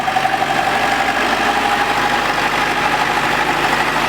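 A tractor engine idles and runs steadily at close range while the clutch is let out slowly. It gives a continuous mid-low drone with a faint knocking vibration and no talk over it.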